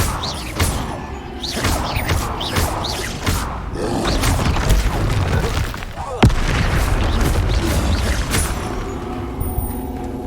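Incendio fire spells cast in the video game Hogwarts Legacy, with repeated whooshing bursts, booming thuds and crashing impacts over a dense, loud battle-like backdrop.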